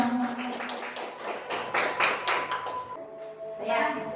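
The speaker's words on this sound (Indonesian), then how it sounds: "Tepuk tangan dulu untuk kita semua." Teachers at a school workshop in an elementary school clap together, a rhythmic burst of hand claps that fades after a few seconds, followed by a speaking voice close to the microphone.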